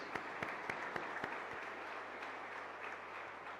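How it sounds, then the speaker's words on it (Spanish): A congregation at Mass in a chapel claps in a moderate, fairly distant round of applause, with a few louder individual claps standing out early and the sound holding steady to the end. "Un fuerte aplauso entonces."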